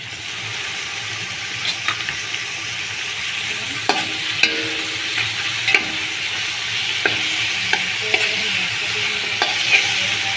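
Tomato pieces fry in oil for prawn biryani, a continuous loud sizzle with frequent sharp clinks and scrapes of a spatula stirring the pan; no one speaks.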